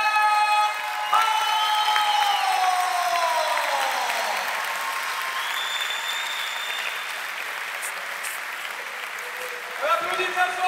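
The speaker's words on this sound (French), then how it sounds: "On applaudit bien fort encore une fois, Kenji 7 Matsushima." Crowd applause and some cheering at a Brazilian jiu-jitsu Pro League event, a broad, continuous wash of clapping in a large venue under sustained tones from the sound system, with a voice breaking in near the end.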